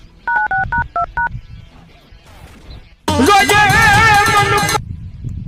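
Telephone keypad tones beep in a quick run of about eight presses, then a loud ringback or ringtone warbles for nearly two seconds, close and clear over light background noise.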